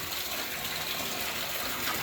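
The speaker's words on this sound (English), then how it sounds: "I'm pumping the water from the original tank here." Water pump transferring water from a tilapia tank into a larger tank, a steady broadband gushing and whirring rush that holds constant and fairly loud throughout, with no voices.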